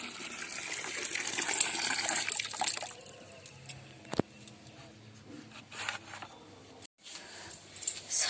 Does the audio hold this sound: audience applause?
no